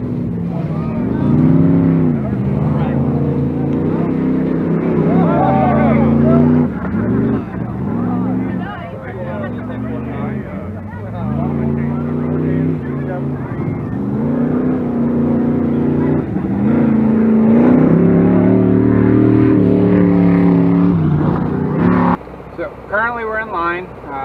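Off-road Jeeps run engine-loud elimination races, with revving motors and passing vehicles rising and falling continuously and close, under a near-constant voice talking throughout.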